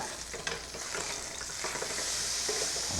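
A steak sizzles loudly in a hot pan right after being turned over, a steady bright frying hiss with small crackles and no voices.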